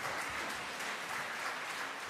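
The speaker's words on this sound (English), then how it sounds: "Suddenly Bill heard people clapping" Steady applause from a crowd of people clapping, a continuous wash of many hands at moderate level throughout the short span.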